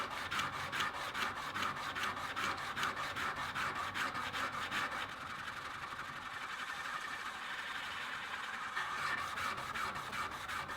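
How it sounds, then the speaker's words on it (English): A knife is sharpened on a brand-new, rough Ash & Co diamond sharpening stone with medium to hard pressure, a steady rhythmic rasping of rapid back-and-forth strokes, close and continuous with no talking. "You can even hear the roughness of the brand new stone, you can hear it."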